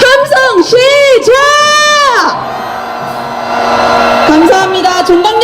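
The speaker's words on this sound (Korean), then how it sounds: "함성 시작!" A large crowd at a street protest march calling for a president's impeachment roars with shouts and cheers, rising whoops over sustained noise at close range, with voices chanting and shouting throughout.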